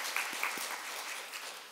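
A church congregation at a Sunday service gives a brief burst of applause, a soft, diffuse patter of many hands heard from a distance across the room.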